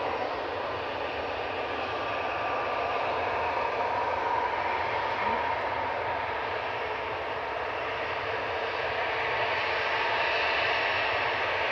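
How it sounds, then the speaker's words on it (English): An EasyJet Airbus A321neo departing Manchester Airport, a steady moderately distant jet rumble and hiss that holds evenly without voices. "the EasyJet 229 GUZ just departed A321 Neo"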